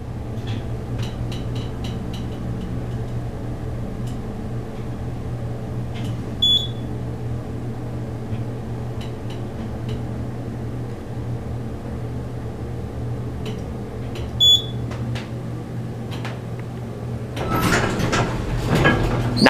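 A 1981 Dover hydraulic elevator motor hums steadily during a ride at The Atrium, with a few short faint beeps and a burst of clattering noise near the end.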